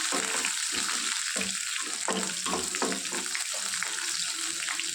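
Onion pieces frying lightly in oil in a pan for a lady's finger and tomato curry, giving a steady close hiss with soft crackles and a few stirring scrapes, no talking.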